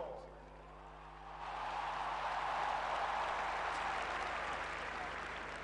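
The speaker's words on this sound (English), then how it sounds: "Let's give a huge round of applause." At a Cricket World Cup 2011 opening ceremony, a large crowd breaks into a broad, loud wash of applause for the fourteen team captains that swells after a brief lull and keeps going.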